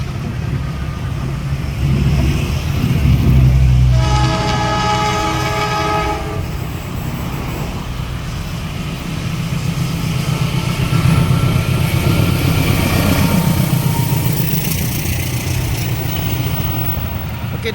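An Indonesian special test train on the Jember to Kalibaru line rumbles past, sounding one loud sustained horn blast early on, followed by long continuous rolling wheel noise close by.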